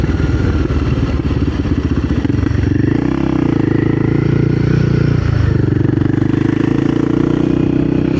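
Royal Enfield Guerrilla 450 motorcycle being ridden, a loud close engine thrum with clattering pulses that settles into a steady, heavy drone, under constant wind rush.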